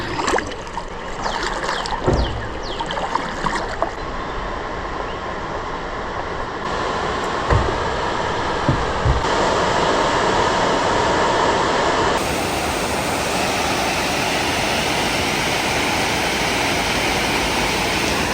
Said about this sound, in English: I can already hear the dam